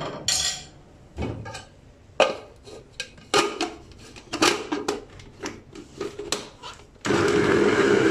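Garlic, onion and ginger are handled in an electric chopper: a series of irregular clunks and clatters, then a steady loud motor whirr starts near the end.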